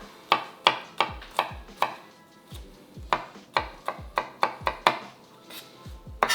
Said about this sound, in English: I'm just a very, very loose garlic chopped cube size